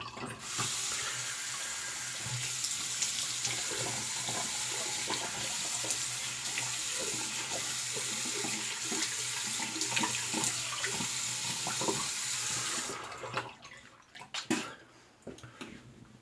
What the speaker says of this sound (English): we're going to do a cold water rinse